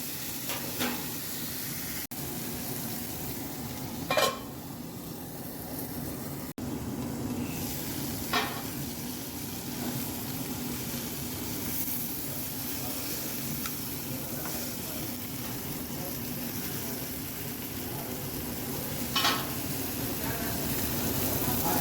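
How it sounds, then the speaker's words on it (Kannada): Chicken alfaham fries in a pan with a steady, close sizzle and hiss that runs throughout, with occasional sharp pops and scraping stirs. "ಇದೇ ಥರ 2 ಕಡೆ ಕೂಡ ತಿರುಗಿಸಿ ಎಲ್ಲ ಫ್ರೈ ಮಾಡ್ತಾ ನೋಡ್ತಾ ಇದ್ದರೆ ಚೆನ್ನಾಗಿ ಅಲ್ಫಾಮ್ ಆಗುತ್ತೆ"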